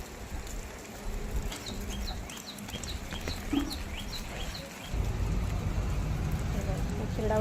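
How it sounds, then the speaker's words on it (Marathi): Light rain patters steadily on a farm, a broadband hiss that thickens midway, with faint bird chirps scattered over it and no talking. "हे बघा कसा पाऊस चालू आहे"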